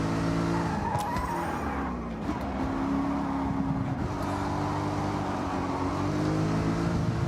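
Race car in Forza Horizon driven with a wheel, engine droning steadily at high revs with tire squeal and skidding, continuous and loud throughout.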